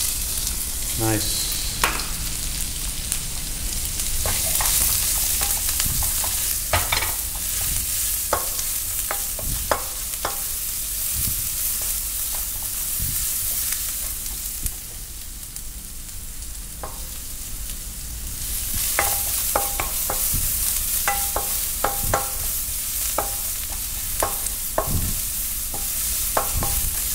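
Ginger and garlic frying in a hot pan, a continuous loud sizzle with frequent clinks and scrapes of stirring over nearly half a minute, with occasional brief talk.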